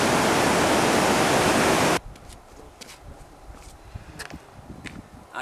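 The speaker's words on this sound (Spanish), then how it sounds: "Aquest és el famós río Mara" Loud, steady rushing of the Mara River in Kenya's Masai Mara for two seconds, then it cuts to a quieter outdoor scene with faint movement and scattered small sounds.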